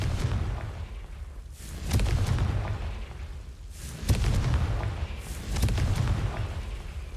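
A Confringo fire spell in Hogwarts Legacy goes off as loud booming blasts, three heavy bursts a second or two apart, each followed by a rumbling tail that never quite dies down between them.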